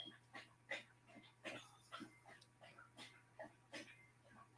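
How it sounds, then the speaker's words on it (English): A thirsty dog laps water from its freshly filled bowl indoors, a rapid, regular series of wet slurps and laps, close and fairly quiet over a steady low hum. "Boy, that dog was thirsty."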